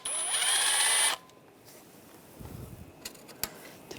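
Power tool whirring on a ground strap nut of a 2001-2006 BMW 325Xi engine with an 8mm socket, loud steady buzz for about a second, then quiet with small clicks and taps.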